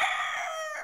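A rooster seized from an illegal cockfighting operation crows once, a short, bright, fairly clear call that fades after under a second.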